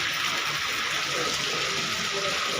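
Steady, dense rushing of heavy rain pouring down without pause, a loud broadband hiss filling the whole stretch.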